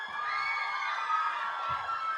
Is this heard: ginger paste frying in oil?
no